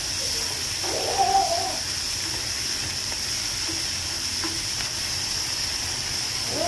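Sausages sizzle in a hot pan with peas and carrots, a steady low hiss throughout with faint soft clinks, no one talking.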